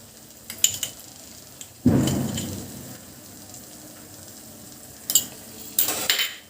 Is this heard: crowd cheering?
no